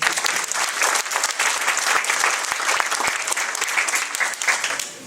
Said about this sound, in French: Je vous remercie de l'applaudir quand même.